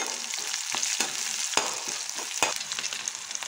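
Chopped onion and two green chillies sizzle steadily in a hot pan, a continuous crackling fry broken by a few sharp clicks of stirring, close and alone with no voices.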